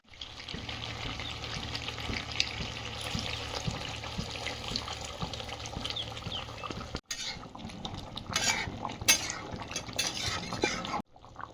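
Hot water poured into fatty meat frying in oil in a pan for a Bengali meat curry, with a steady hiss and sizzle, scraping and stirring clatter, then a sharper burst of bubbling as the water hits the hot fat.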